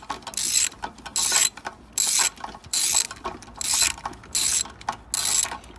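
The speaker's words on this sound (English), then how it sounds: "so first of all, we'll get this bolt off." A bolt is worked loose from a Briggs and Stratton carburetor with a ratchet. About seven quick bursts of close, crisp clicking come in a steady back-and-forth rhythm, with no voices.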